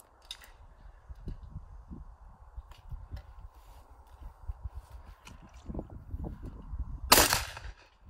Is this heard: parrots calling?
no